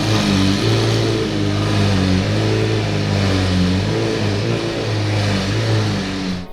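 A Lamborghini SV supercar engine revs loudly up close, its deep roar surging and dropping in repeated steady blips with no talking.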